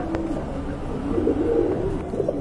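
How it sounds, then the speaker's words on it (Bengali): Pigeons coo softly and repeatedly at close range in a loft, a steady low murmur of several birds with no talking over it. "এখানে কিন্তু আরেক জোড়া শোকিং কবুতর দেখতে পাচ্ছেন"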